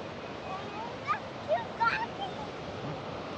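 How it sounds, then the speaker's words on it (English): Waterfalls on a wide river, a soft steady rushing wash with a few faint bird chirps on top, no talking. "So this is the first set of falls."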